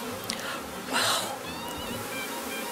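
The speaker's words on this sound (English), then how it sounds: "You're having sure a cloud of bees." A swarm of honey bees buzzes as a steady, dense hum during swarm catching in Melbourne, Australia. A louder burst comes about a second in, like bees passing close, and no one speaks.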